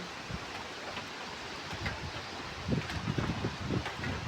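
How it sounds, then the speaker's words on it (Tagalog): Low, rumbling wind from Typhoon Kristine buffeting the microphone, with stronger gusts swelling toward the end. "Umasok yung hangin dito"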